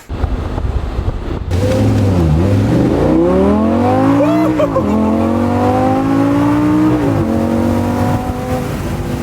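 A Lamborghini accelerates hard up to 75, its loud engine revving and climbing through several gear changes with sharp shifts, close and dominant throughout.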